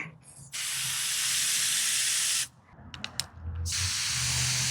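A steady, broad hiss of water spraying from a garden hose nozzle on its shower setting, cutting off briefly midway with some clicks before the spray resumes.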